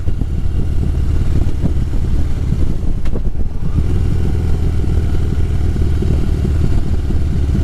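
A motorcycle rides along a road on a sunny day in southeast Wisconsin, its engine a steady, loud mid-range drone with wind rumble throughout, and a brief dip in the noise around the middle.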